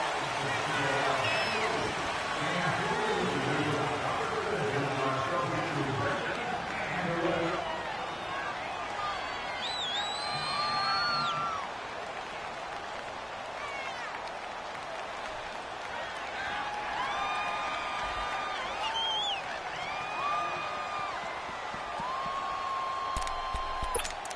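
Stadium crowd at an NFL game between the Bills and Ravens, a steady loud roar of many voices with cheering swells and whistles throughout, mixed with announcer-style talk.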